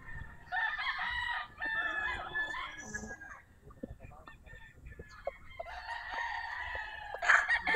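Sweater gamecock roosters crowing on a gamefarm, several full cock-a-doodle-doo calls in a row with clucking and other birds in between, at moderate distance, with someone speaking faintly in the background.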